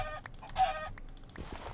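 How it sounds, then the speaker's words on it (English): Chickens in a video game giving a few short clucks and a brief squawk, faint and close together. "Oh, chickens!"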